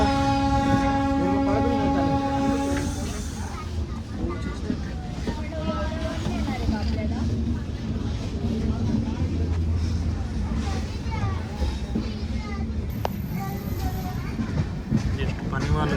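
A Kirandul passenger train runs on rails between Vizag and Araku, a steady loud rumble and rattle from inside the coach, with a brief high tone near the start and voices underneath.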